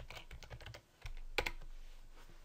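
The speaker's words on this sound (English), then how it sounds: "type in what we want to call it." Fingers tap on a computer keyboard in quick, light keystrokes, followed after a short pause by a couple of sharper clicks, close and alone against faint room hum.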